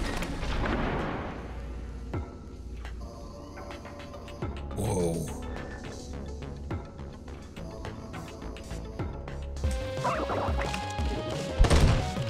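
Gunshots from a powerful but slow-reloading gun in the Eastward video game, a few sharp bangs scattered among game effects and music, fairly loud, with a voice talking over parts.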